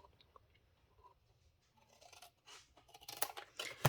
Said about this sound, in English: and I make an angle cut